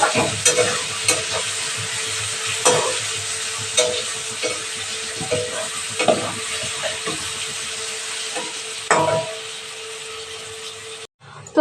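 Mustard seeds tossed into a hot pan in a Bengali kitchen make a bright sizzle broken by repeated clattering stirs and scrapes of a utensil, close and fairly loud, with no talk.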